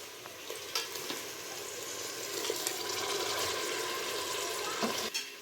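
Blended tomato thinned with water sizzles in a frying pan while it is stirred in for soybean rice, with a steady low crackle and a few scrapes and clinks.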